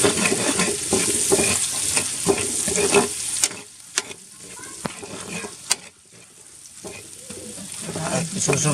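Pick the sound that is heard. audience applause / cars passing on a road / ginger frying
ginger frying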